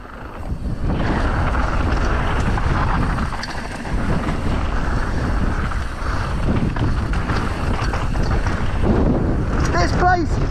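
Strong wind buffets the microphone in loud, continuous gusts on a mountain ridge line while heli-biking, with brief whoops and voices breaking through near the end.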